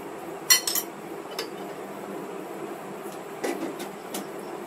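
A spoon knocks and scrapes against a pot of rice pudding (payesh) made with atop rice and ghee, a few sharp clinks spread out over a quiet background, then a final metallic tap.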